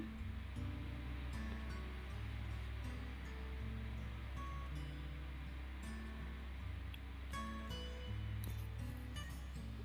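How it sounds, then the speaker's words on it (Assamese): Tenga sour fruit being washed in water, giving a continuous splashing and sloshing wash with occasional faint clinks and rustles, steady and fairly quiet throughout with no talking. "টেঙাখিনি মই আৰু এবাৰ ধুই ল'ম।"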